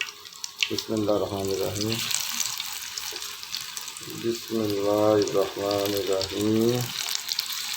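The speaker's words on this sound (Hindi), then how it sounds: "अभी हम इसको थोड़ा चम्मच के मदद से इसको पकोड़े डालेंगे इसमें थोड़ा" Pakoras are spooned into simmering kadhi, giving a continuous watery bubbling and hissing that holds steady throughout, with a voice reciting over it in two bursts.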